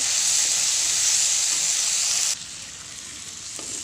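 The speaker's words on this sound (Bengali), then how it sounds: "এই যে তেলটার মধ্যে দিয়ে দেবো আদা রসুন বাটা তো দেখো এটা ভাজা ভাজা করে নেব" Ginger garlic paste and onion frying in hot oil in a pan, a loud steady sizzle and hiss that suddenly drops to a quieter, gentler frying sound partway through, with no talking.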